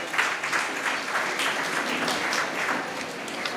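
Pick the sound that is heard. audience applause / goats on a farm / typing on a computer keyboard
audience applause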